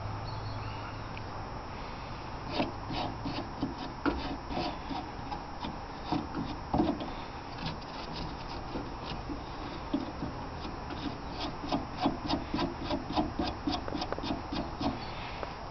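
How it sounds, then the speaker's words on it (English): Hand sanding on a cut-out, pitted car floor panel, a faint rhythmic scrubbing rasp that speeds into quick repeated strokes, heard alone without voices. "Getting it roughly cut out the shape and getting it sanded in here."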